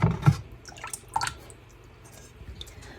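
Plain water splashes and drips while copper puja diyas are rinsed by hand, giving a few soft close splashes early on and then quieter trickles, with no talk.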